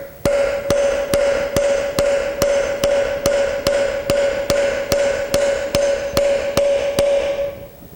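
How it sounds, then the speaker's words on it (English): Hammer whacks seating a seal over a motorcycle front wheel bearing in the hub, about seventeen evenly spaced metallic taps with a ringing tone, loud and close, then stopping. "give it just a couple more little whacks to make sure it's seated."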